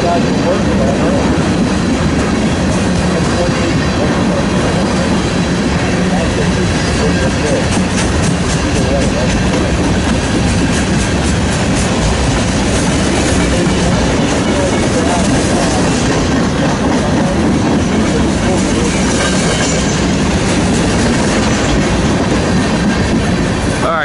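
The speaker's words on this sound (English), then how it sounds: "ballast train, heading east on Main 1, going through the signals at CPYO right now" A loaded ballast train rumbles past continuously and loudly, heading east on a main line, steady clattering of wheels on rails with a broad roar throughout, with some talk faintly underneath.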